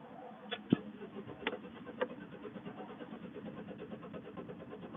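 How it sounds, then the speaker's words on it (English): A van engine cranks repeatedly without catching, a rapid rhythmic churning of the starter with a few sharp clunks early on, close and steady. "It's just cranking, it's not starting, so this is what happens."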